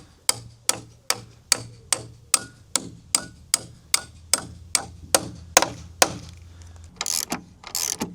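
A hammer drives M12 anchor bolts into drilled holes during a workshop frame build, with sharp metallic strikes landing in a steady rhythm of about fifteen blows, close and clear, followed by brief rustling.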